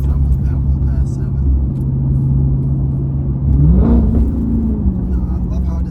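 A Dodge Charger Hellcat hums along at steady speed with a low engine drone, then the pitch climbs as it pulls harder under acceleration, heard from inside the cabin among road rumble.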